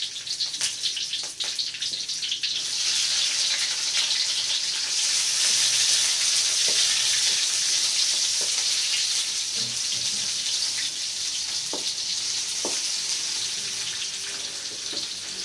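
Onion fries in a pan with a loud, continuous hiss that holds steady throughout, a few faint clicks beneath it and no talk.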